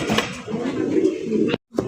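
Fancy racer pigeons coo close at hand in a soft, throaty run of low calls that stops abruptly near the end.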